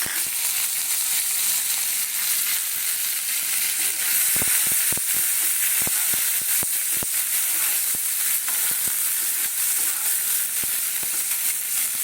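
Tomatoes dropped into a hot pan with cinnamon, cardamom and cloves fry with a steady, loud sizzling hiss, broken by a cluster of sharp crackles and pops partway through.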